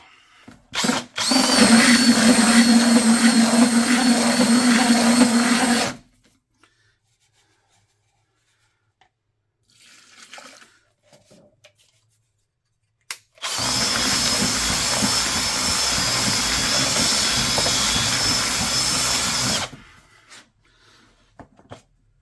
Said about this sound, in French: Donc on va rajouter de l'eau et on va prendre le batteur.